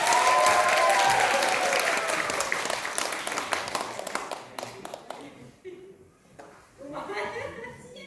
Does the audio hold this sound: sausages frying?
no